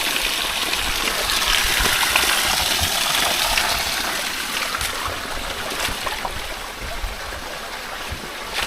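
Water sprays from a hose nozzle outdoors in Palawan, a steady loud hiss and gush continuing throughout with slight fluctuations.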